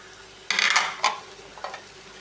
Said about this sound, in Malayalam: ഈ ക്യാരറ്റ് അതിലോട്ടിട്ട് നമുക്ക് വഴറ്റി കൊടുക്കാം.